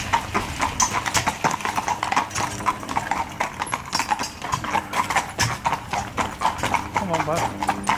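Hooves of a pair of young driving horses clip-clop steadily and close by, a brisk continuous trotting rhythm with harness jingle, while people talk over it throughout.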